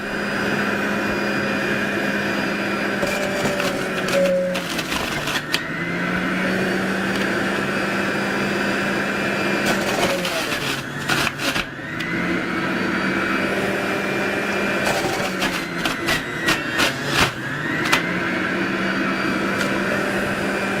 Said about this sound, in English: I've also got some carrots here, so these are a little bit harder, so I'm going to crank up the juicer again